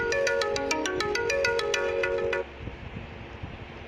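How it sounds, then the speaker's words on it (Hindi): A phone ringtone plays a repeating melodic pattern, loud and close, then cuts off abruptly, leaving quieter room noise. "बीच में फ़ोन आ गया था"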